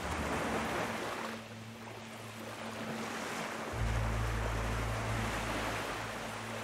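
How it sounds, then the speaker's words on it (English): Ocean waves in a Pacific desert island survival video game, a soft steady wash of surf and wind with a low droning hum underneath, swelling louder partway through, no talk. "Sounds nice, the water."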